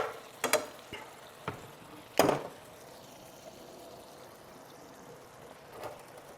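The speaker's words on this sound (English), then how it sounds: "We're gonna let it fry for a little bit so it gets softer." Chile con queso ingredients frying in a pan give a low steady sizzle, broken by a few sharp clacks and stirring knocks near the start, with no talking.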